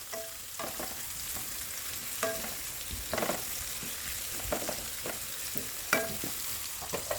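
Garlic and onion sautéing in a pan for chicken afritada, a continuous close sizzle with repeated stirring scrapes and clatters of a utensil against the pan, no talking.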